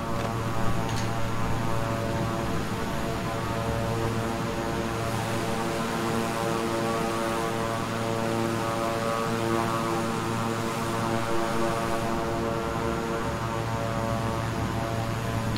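Twin-engine King Air 350i turboprop taxiing in Microsoft Flight Simulator, a steady propeller drone with a constant low hum and layered engine tones running unbroken throughout, no talk.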